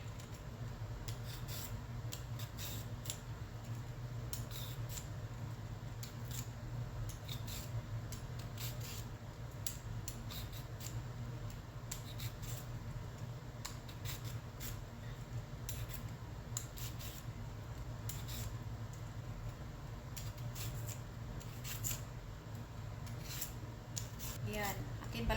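Steady, fine rasping and scraping strokes repeat close up as a peeler works along a cucumber's skin over a low background hum.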